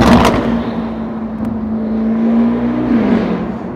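Engine note of a modified Lamborghini Urus tuned past 900 hp as it downshifts, with a brief sharp burst at the start and then a steady droning tone that falls away near the end.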